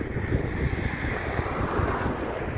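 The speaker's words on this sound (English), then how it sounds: "It's windy out." Gusty wind blows across the microphone beside railway tracks in Rantoul, Illinois, producing a loud, rough low rumble that swells and dips throughout.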